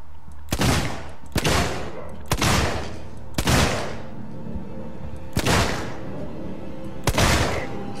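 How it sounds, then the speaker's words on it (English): Gunshots in the video game Alien Isolation, six loud booming blasts spaced roughly a second or more apart, each with a sharp onset and a rumbling decaying tail. "Hold on, I'm gonna shoot a guy"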